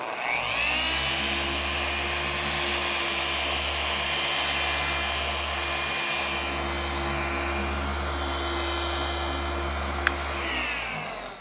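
A machine polisher fitted with a black Lake Country foam pad runs at a slow speed while applying ceramic wax, giving a steady droning whine with a low hum. It holds evenly for about ten seconds before winding down, with no voices.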